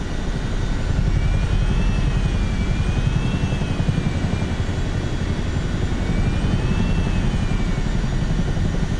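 A CH-47 Chinook helicopter in Microsoft Flight Simulator 2024 drones with a steady, dense rotor and engine roar, and a faint whine rises and falls as it banks through a turn. No one speaks.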